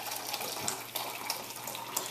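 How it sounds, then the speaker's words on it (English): Water runs steadily from a tap, splashing and bubbling as it fills a 2-cup measuring cup, with a few small clinks along the way. "in a 2-cup measure, I'll put 2 cups of water"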